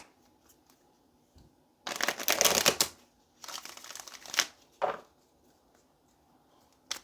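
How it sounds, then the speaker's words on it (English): Tarot cards being shuffled in a quiet room, two long bursts of rapid riffling and flapping followed by a short flick and a brief tap at the end, close and alone. "All right, let's get one more shuffle"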